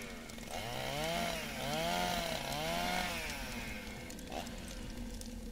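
A chainsaw in The Last Dream revs loudly and steadily while cutting through branches, pitch rising and falling in repeated waves, then easing off near the end.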